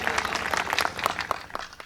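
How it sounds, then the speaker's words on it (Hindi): An audience claps for a Hindi comedic poet on stage, a dense burst of applause with scattered sharp individual claps throughout. "एक बार आप सबकी प्यार भरी तालियां हैं"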